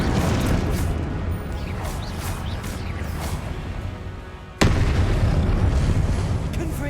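Deep booming blasts of the Confringo fire spell in Hogwarts Legacy hit in a rolling series, capped by one sharp, loud explosion partway through that leaves a sustained roar after it, with no talking over it.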